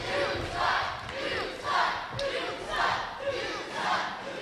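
A wrestling crowd at an ACPW independent show heckles and yells at Mr. Hughes, loud rising and falling waves of massed shouting and jeering that swell roughly every second, with no commentary over them.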